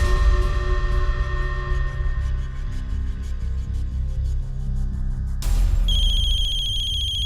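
A mobile phone ringtone plays a repeating electronic melody, loud and close, changing to a higher, brighter tone near the end.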